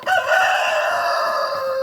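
A rooster crows loudly and close by in one long, sustained call, with other chickens around; no talking.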